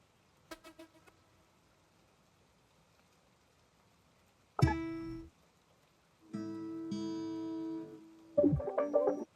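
Sparse, varied synth textures appear one at a time: a brief plucky blip, a bright burst, a sustained buzzy tone, then a glitchy flurry.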